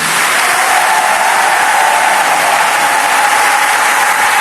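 A large church congregation applauds loudly and continuously, a dense, even wash of clapping with a faint crowd murmur underneath.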